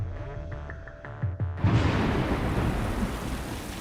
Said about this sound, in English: a single day's downpour can splash down more than 800 million litres of rain